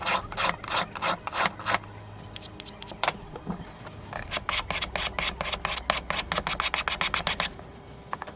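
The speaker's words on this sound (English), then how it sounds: "Now I am sharpening the knife with a whetstone." A knife blade forged from an old leaf spring into a Japanese tanto is drawn repeatedly across a whetstone, making close, gritty rasping strokes in a steady, quick rhythm with short pauses between runs.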